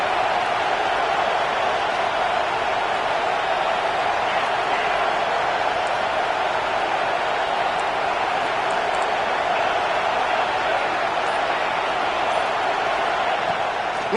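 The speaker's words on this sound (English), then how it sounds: "Decibels rising as the crowd gets behind this defense on 3rd down." A dense, steady roar from a packed college football stadium crowd at Oregon versus Washington, rising for the defense on third down, filling the air continuously at high level without letup.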